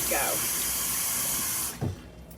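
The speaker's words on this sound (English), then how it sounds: "That is hot water." Hot water runs steadily from a kitchen tap in a broad hiss, then cuts off, leaving a short splash and handling sounds as hands are dried.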